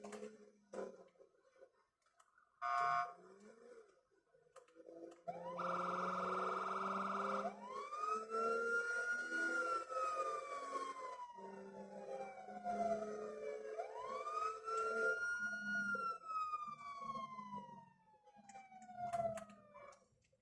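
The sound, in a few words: police siren in a video game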